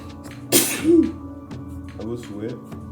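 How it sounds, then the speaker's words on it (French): A person sneezes once, a sharp burst during a vape mod unboxing indoors, followed by a faint exhalation and soft murmuring in the background. "À vos souhaits."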